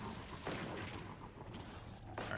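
Explosions and gunfire in a warlock buildcrafting video game, a steady dense wash of booming blasts with sharper bursts around the half-second mark and again near the end, continuous and fairly loud throughout.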